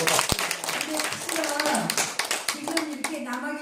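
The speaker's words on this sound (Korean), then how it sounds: "끝까지 남아계신 여러분들 본인에게 한번 박수 크게 치세요." Audience at a concert clapping steadily through the whole stretch, dense sustained applause with scattered voices and chatter mixed in.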